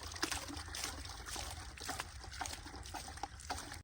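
Water splashes and trickles steadily onto a brick floor base as it is soaked, a soft continuous wet pour with small splashes throughout and no voices.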